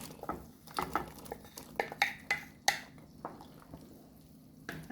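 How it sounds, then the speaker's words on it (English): Okra and carrot tipped into a cooking pot for Jamaican fish soup, a run of clinking, clattering knocks and stirring scrapes, close and uneven, with no talking. "we are just going to add our okra and carrot to the pot."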